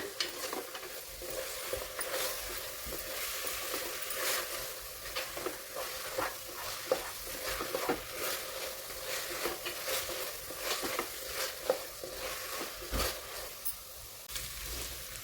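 Mutton biryani ingredients with coriander, mint and masala stirred together in a pot, a steady low scraping and shuffling with a faint sizzle underneath, continuous and close without any talking.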